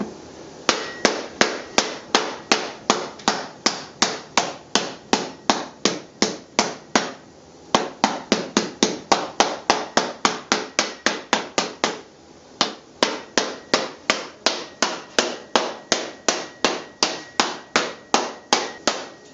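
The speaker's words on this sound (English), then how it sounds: "These are nylon hammers. They're curved so I can get my patterns to what I want it to do." Curved nylon hammers strike metal in a long, steady rhythm of sharp, ringing blows, loud and close, with two brief pauses before the hammering resumes at the same even pace.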